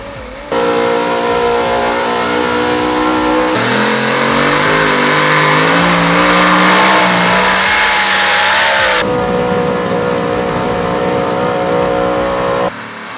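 Pulling truck engines (Outlaw Street Gas four-wheel-drive and super modified trucks) at a truck and tractor pull roar and rev loudly and continuously, pitch climbing and dropping through hard acceleration, with a brief squeal of tires; no talking.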